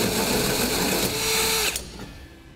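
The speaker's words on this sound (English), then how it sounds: "Now I'll take a hole saw, the size indicated in the instructions, and begin to drill that out" Loud whining drill with a hole saw grinding steadily through a 2008 Ford F-450 truck bed, then cutting off abruptly, leaving a quieter hum.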